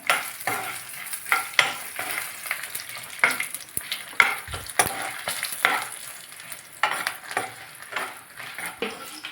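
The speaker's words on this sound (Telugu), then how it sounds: "ఆకురకాయలు కరివేట్లు వేసుకుందాం" Curry leaves fry and sizzle in a pan for a tomato and egg curry while a utensil stirs and scrapes, giving loud, irregular clattering strokes over a continuous crackle, with no talking.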